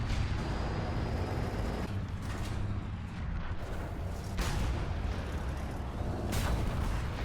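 A tank cannon firing a HEAT shell that strikes an enemy vehicle in War Thunder, heavy booms over a constant loud rumble of engine and battle noise, with several sharp blasts spread through the stretch.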